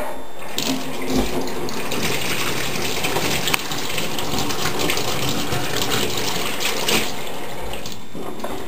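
Tap water gushes steadily to rinse photoresist off a silicon wafer in a clean room during NMOS fabrication, a loud, continuous splashing stream close by with no talking.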